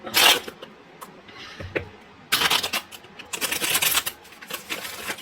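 Several bursts of crisp papery riffling as tarot cards are shuffled, coming in short spurts with brief pauses between them, close by with no talking.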